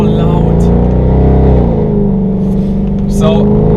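Mercedes C63 AMG engine roaring with a loud, deep, steady rumble that rises and falls slightly, close up, with a voice talking over it.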